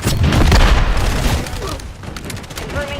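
Grenade blast in a video game, a loud booming burst at the start, followed by rumbling gunfire-like crackle that fades, with game voices underneath.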